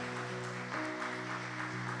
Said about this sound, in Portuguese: já vai aplaudindo ao Senhor Jesus.